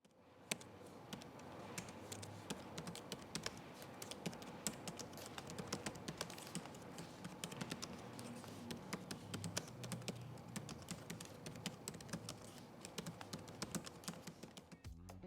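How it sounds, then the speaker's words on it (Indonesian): Continuous quick typing on an ASUS ROG Strix Scar 17 (2023) G733P laptop keyboard, a dense run of light clicky keystrokes close up with no talking. "berikut ini deh contoh suara feedback dari keyboard-nya"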